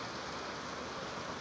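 A short stretch of heavy rain gives a thick, even roar with no breaks, loud and close, with nobody speaking.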